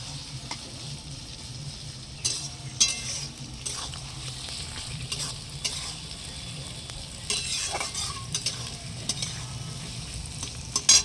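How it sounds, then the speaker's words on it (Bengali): Onions fry and are stirred in a pan until reddish for a mutton curry, a steady sizzle broken by scraping stirs and occasional clinks, close and moderately loud with no talking. "পেঁয়াজটা কিন্তু বন্ধুরা আমি একটু লাল লাল করে ভেজে নেব"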